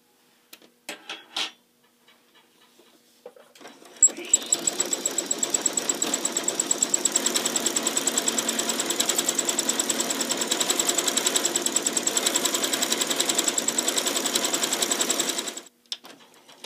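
A sewing machine stitching a thread-painted blossom scallop with two green threads through one needle, a few handling clicks, then a close, fast, even run of needle strokes for about twelve seconds before it stops.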